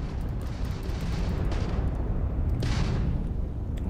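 A Crimson Fleet pirate ship's weapons boom during space combat in Starfield, a rumbling barrage of blasts with a sharper burst about two-thirds through, loud and continuous.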